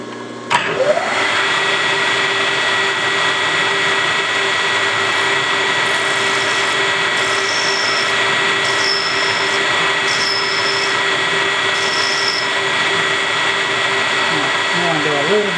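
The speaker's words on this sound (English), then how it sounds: "Let's see how good it is with a Steve Summers hand sharpened end mill" A hand-sharpened end mill cuts stainless steel on a milling machine: a loud steady motor whine and cutting hiss run throughout, with a sharp start and a few brief higher squealing bursts partway through.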